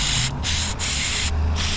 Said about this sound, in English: So I'm just gonna spray it in there, maybe get a Q-tip and help get some of the gunk off.